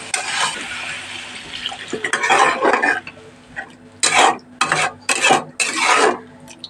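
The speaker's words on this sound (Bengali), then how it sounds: "এবার আমি এর মধ্যে কিছুটা পরিমাণে জল দিয়ে দেবো" Water poured into a pan of soya curry masala, with irregular splashing and sizzling bursts and scraping stirring sounds in between, close and fairly loud with no talking.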